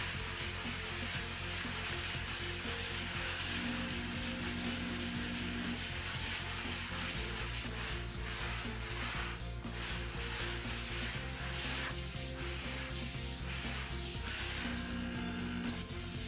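A continuous loud hiss with scrubbing, rubbing texture, as a vapor steam cleaner spot-cleans a carpet stain, steady throughout with a low machine hum beneath.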